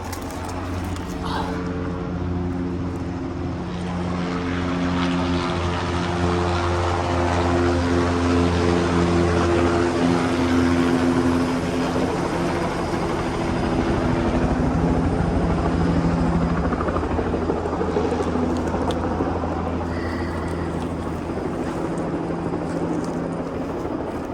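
A helicopter drones overhead above a logging cut block in a timber falling operation, its steady rotor and engine hum holding loud and continuous through the whole stretch.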